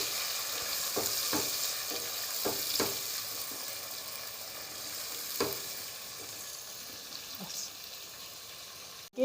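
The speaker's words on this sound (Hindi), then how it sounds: "अब इसको भुनेंगे।" Chopped tomatoes frying with already-browned garlic in a pan for a peas and meat curry, giving a steady close sizzle with scattered sharp crackles and stirring clicks, no talking heard.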